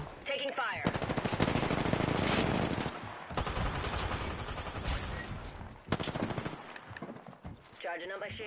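Rapid automatic gunfire from Apex Legends, in long dense bursts with brief pauses between them, loud and close, with some voice underneath.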